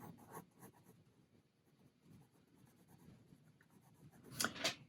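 Pencil scratching across paper while sketching a gesture drawing of a male figure, soft, close strokes in quick bursts, building to a couple of louder rubs near the end.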